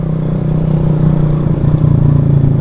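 A two-stroke motorcycle engine runs close by on a night road ride, a steady buzzing drone with slight surges in revs and a rattly edge throughout, with no talking.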